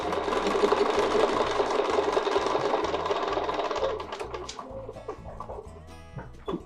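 A sewing machine stitches a quilt petal design along a template, its needle motor running in a steady rapid chatter that slows and breaks into shorter bursts toward the end.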